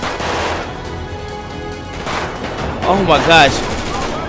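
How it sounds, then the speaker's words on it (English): Rapid gunfire from a shootout in GTA 5 crackles through the clip, overlapping with a startled voice exclaiming over the shots, dense and continuous rather than single isolated bangs. "All I see is my guys shooting."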